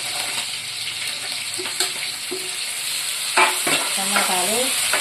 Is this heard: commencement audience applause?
no